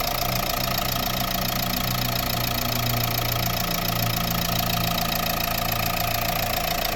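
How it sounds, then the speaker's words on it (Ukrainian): A 2013 Renault Megane 1.5 dCi diesel engine idles steadily and smoothly, a continuous low rumble with faint mechanical knocking and no voices. "відчуваєте, як працює рівно двигун"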